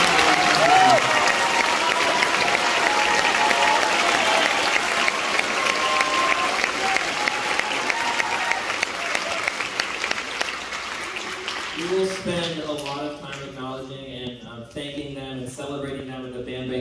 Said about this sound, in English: Seniors, let's give a round of applause for our seniors.